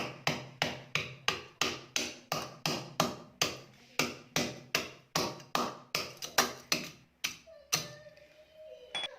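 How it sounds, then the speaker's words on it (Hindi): A small mortar and pestle crushing thread-style mishri rock sugar, with about twenty sharp, evenly spaced pounding taps close up, ending in a few scattered knocks and a faint scrape. "ये हमने छोटा हमामदस्ता लिया है, इसको डालेंगे मिक्स इसमें और इसे हल्का हल्का ऐसे क्रश कर लेंगे"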